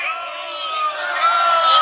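A crowd inside a legislative assembly chants slogans at Nawaz Sharif, a dense, continuous roar of many voices merging into a sustained wash of shouting without distinct words standing out.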